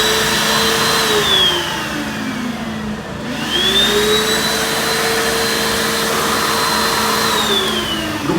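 A running dryer gives a loud, steady mechanical whir with a rising and falling motor tone, close by, with a brief dip in the middle.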